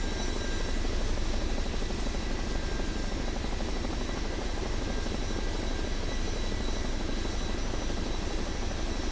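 A Chinook helicopter flies in Microsoft Flight Simulator 2024, with a steady, loud rotor and engine drone that stays even throughout and has no talk over it.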